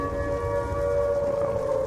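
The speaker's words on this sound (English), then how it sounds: "I hear a noise. It's like, sirens." Steady wailing siren tones drone on at a fixed pitch in a zombies video game on the Nuketown map, with a low background rumble underneath; no talking.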